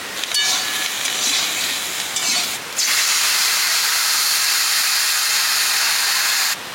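Water hits a hot pan of frying green chillies over an outdoor village fire, and a loud, steady steam hiss fills the clip, dipping briefly midway before surging back and cutting off near the end.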